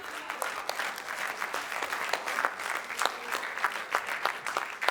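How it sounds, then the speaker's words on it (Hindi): Applause from a mushaira audience in Dubai welcoming a poet to the stage, a crowd clapping steadily with sharp individual claps standing out, moderately loud and continuous. "आप सबकी भरपूर तालियों में खड़े होकर इस्तकबाल कीजिए जनाब शाहिद ज़की"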